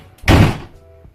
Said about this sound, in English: Gosh, shut the door, hurry up.